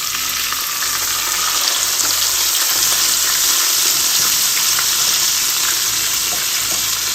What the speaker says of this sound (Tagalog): Napakaganda po na ating pagkakaprito.